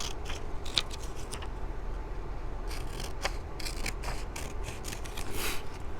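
Scissors snip through paper held steady by the other hand during a preschool circle-time craft, with a close, steady run of crisp cuts and rasping slides lasting several seconds and no talking.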